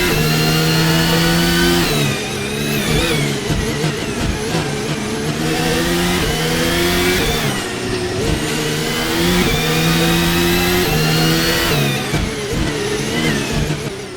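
Formula 1 race cars at the 2024 Bahrain Grand Prix scream past with high, rising and falling engine wails, one car after another, loud and continuous, gear changes audible as pitch drops.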